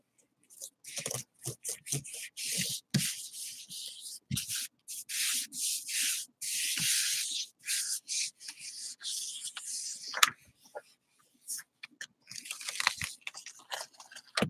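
Crusty dried bits are scraped off a small handmade art piece in short, close, rasping strokes, some quick and some drawn out, separated by brief pauses and a few sharper clicks.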